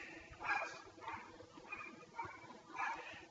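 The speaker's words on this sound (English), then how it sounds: "my dogs are barking" Several dogs bark and yip in short bursts somewhere in a home, a few spaced outbursts at moderate distance across a few seconds.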